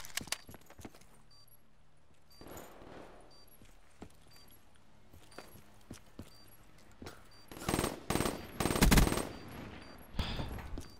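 Automatic weapon fire in Call of Duty: Black Ops 3 cuts through a quiet, clicky stretch as several loud, sharp bursts in quick succession, with one more burst shortly after.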